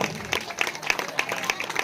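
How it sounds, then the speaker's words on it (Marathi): A crowd claps at an outdoor village felicitation and prize ceremony on a cold evening, with scattered, uneven clapping and separate sharp claps standing out, mixed with crowd murmur and voices talking. "टाळ्यांचा जरा आवाज इथपर्यंत येऊ द्या"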